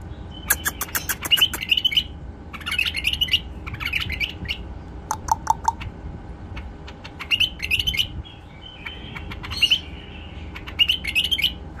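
Young female pet songbird chirping and singing close by, with sharp clustered chirps and short warbling phrases repeating in bursts, no voices.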